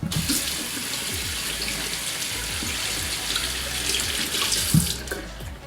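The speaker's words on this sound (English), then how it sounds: "So what I do first is wet my hands." Tap water runs into a sink while hands are wetted under the stream, a loud, close, continuous splashing with small shifts in flow as the hands move.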